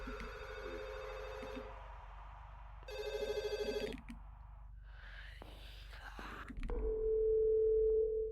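A telephone rings in a horror video game, with bursts of electronic ringing broken by short pauses and other eerie tonal game sounds, ending on a long steady dial-type tone; no voices are heard.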